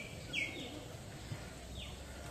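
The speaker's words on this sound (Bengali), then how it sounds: "অনেক পাখির আওয়াজ, অনেক পাখির ডাক" Morning birdsong around a rural homestay in Asannagar, with a few faint, distant chirps and calls over a quiet background.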